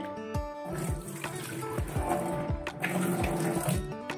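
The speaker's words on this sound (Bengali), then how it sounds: "খুব ভালো করে ডলে ডলে একদম সাদা করে নেব, জলটা একদম যাতে পরিষ্কার হয়ে যায়।" Lentils being rubbed and rinsed by hand in water in a bowl for lentil bori, giving steady sloshing and swishing with repeated rhythmic squelching strokes, close and continuous.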